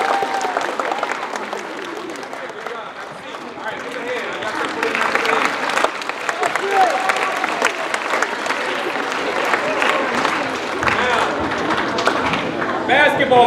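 Middle school students clap and cheer loudly for a runner, a dense, sustained roar of applause and shouting that carries on without a break.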